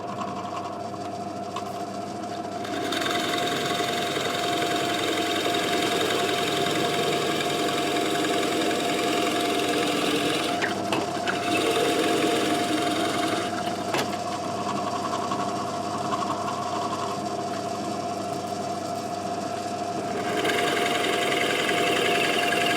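A router or similar power tool hogs out wood for the neck pocket of a custom Telecaster body, giving a loud, continuous whine that cuts in and out in long bursts with brief pauses between passes.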